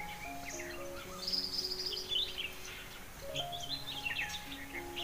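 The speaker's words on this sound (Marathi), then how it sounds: "पक्ष्यांचा आवाज घ्या." Birds chirp and sing outdoors on a cold, breezy village morning, with several thin, bright calls and twittering phrases scattered across the clip over a steady wind-like background hum, moderately near and with no talking.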